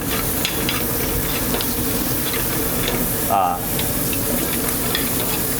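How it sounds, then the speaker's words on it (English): Bacon sizzles in a pan with a constant crackling hiss, and a brief scraping stir cuts through near the middle. "You have a nice sizzling going on."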